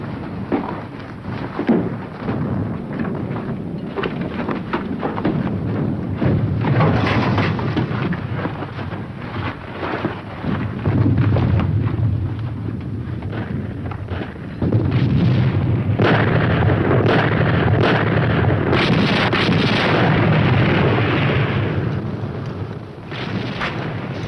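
Artillery fire in a war scene, rolling heavy booms and rumbling blasts layered continuously, loud and dense with swelling bursts and little pause.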